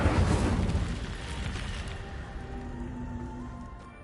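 A fire spell erupts in Hogwarts Legacy with a loud burst that decays into a crackling roar over about four seconds, fading gradually with no talk over it.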